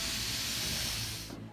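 A pressure canner full of turkey meat vents steam in a steady, loud, close hiss that holds for over a second and then cuts off abruptly.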